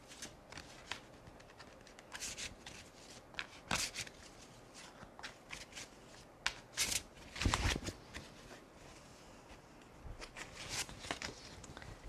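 Angel oracle cards are shuffled by hand in repeated riffling, rustling bursts with brief pauses between them, close and moderately quiet.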